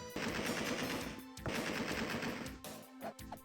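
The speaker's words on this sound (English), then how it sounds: "Just shoot some more zombie pirates" Rapid bursts of automatic gunfire in the video game Alone in the Dark 2, shooting zombie pirates, with two long sustained volleys separated by a brief pause and a few scattered shots at the end, loud and with no talking.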